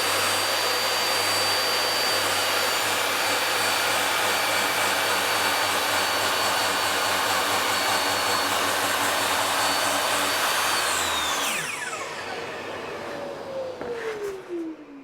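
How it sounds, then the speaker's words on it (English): A DeWalt DWE7485 table saw runs a cut through material, a loud steady whining roar for about eleven seconds, then the blade brake drops the tone sharply as the motor winds down. "I'm going to wind the blade up so it's just above the material, and we're going to take a quick"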